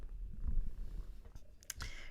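A black cat purrs close by in a low, continuous rumble, followed by a few soft rustles and clicks near the end.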